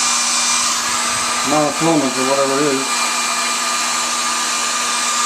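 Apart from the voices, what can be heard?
hair dryer thawing ice in refrigerator drain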